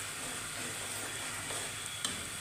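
Garlic-ginger paste and spices fry in a pan with a steady, fairly soft sizzle, a constant hiss broken by one small pop near the end.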